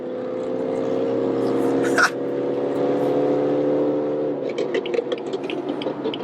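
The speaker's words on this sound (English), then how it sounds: "this guy's exhaust is horribly loud" A loud car exhaust drones with a steady low harmonic rumble from a nearby vehicle in traffic, heard from inside a BMW M3 Competition, fading into choppier road noise.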